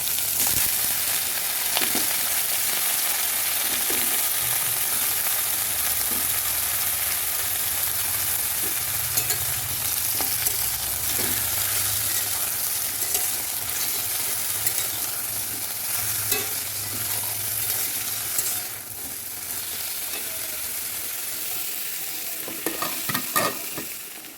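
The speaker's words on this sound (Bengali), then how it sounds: "রান্না হবে চাল কুমড়ো ভাজা" Steady frying sizzle of ash gourd slices in a pan, continuous and close, with occasional stirring clinks and scrapes throughout.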